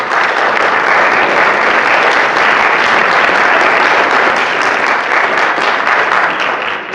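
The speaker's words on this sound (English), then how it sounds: "Let's give them all applause." Sustained applause from an audience after student presentations fills the whole stretch, loud and even with no pauses and only faint voices beneath.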